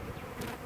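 Honey bees buzzing around a crowded hive, a continuous close-up hum with no pauses and no voices.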